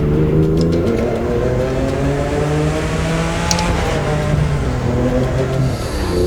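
Tuned Mercedes GLE 250 Coupe SUV with an aftermarket exhaust, a loud close droning engine note with rising and falling revs and a steady throaty rumble, heard without talk.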